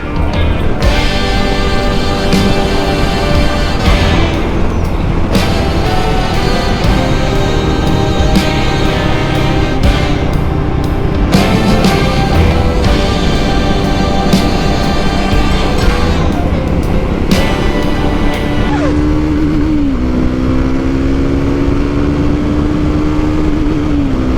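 A 2024 Triumph Scrambler 400 X is ridden hard. The engine roars loud and close throughout, its pitch climbing and dropping through repeated gear shifts, then sliding down as the revs fall near the end. No voices are heard.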